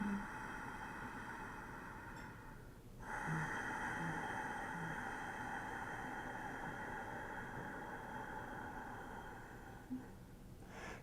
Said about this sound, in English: It's a slow ujjayi breathing technique where you actually constrict the back of your